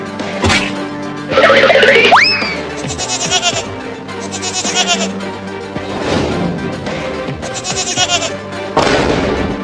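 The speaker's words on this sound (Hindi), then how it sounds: "अरे वो बकरी का बच्चा मेरे खेत में आ रहा है मेरा लालमी खाने" Cartoon baby goat bleating among comic sound effects, with a rising boing-like slide and several loud, bright bursts in a busy, close mix, with voices speaking in between.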